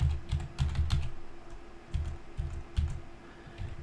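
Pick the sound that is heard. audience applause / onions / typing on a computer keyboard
typing on a computer keyboard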